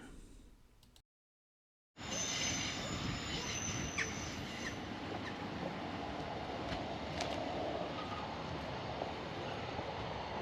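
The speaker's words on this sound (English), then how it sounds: "And now, the train." A train on the Tamar Valley Line rolls past close by, a steady heavy roar of wheels on rails with faint squeals, following a short moment of silence.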